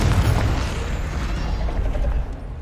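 Confringo fire spell going off in Hogwarts Legacy, a loud low rumbling blast that rolls on with crackling, mechanical debris for a couple of seconds.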